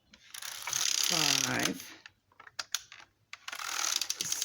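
A knitting machine carriage sweeps across rows, a rasping mechanical rush followed by clicks and ratcheting clatter, with a voice briefly counting.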